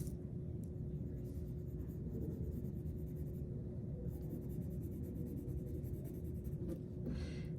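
Colored pencil shades back and forth on paper, a quiet continuous scratchy rasp with soft rhythmic strokes and pressure changes, close to the microphone.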